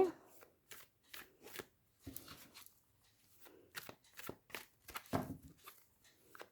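A deck of tarot cards is shuffled by hand nearby, heard as quick riffling bursts in uneven clusters separated by short quiet gaps.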